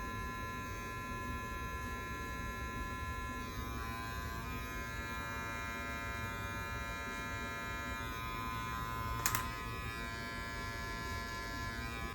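Electric hair clippers without a guard trimming and blending a beard, a steady close buzzing hum running the whole time with one brief click near the end.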